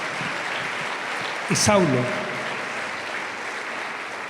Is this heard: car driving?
no